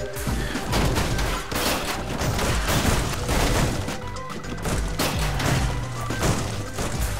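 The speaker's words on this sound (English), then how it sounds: "Explosions everywhere. We need more explosions." Repeated explosions and crashing impacts from the Goat Simulator video game, a loud, dense barrage of booms and bangs running continuously with no gaps.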